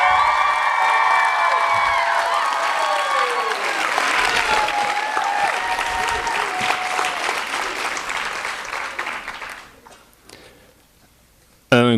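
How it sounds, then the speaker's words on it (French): Loud audience applause and cheering at a summer-program final gala, sustained clapping with whoops and shouted voices that slowly thins out and fades near the end. "on peut très fort donc applaudir pour saluer Mia."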